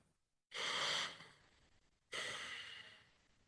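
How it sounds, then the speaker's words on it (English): Two deep, audible breaths taken before meditation, each a long airy inhale or exhale lasting about a second or more, close and clear with a short pause between them. "First off, let's get a big breath"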